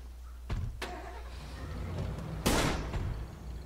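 Truck in State of Decay, a zombie survival game, with two door thuds, then a loud burst as the engine starts, followed by a low idle rumble.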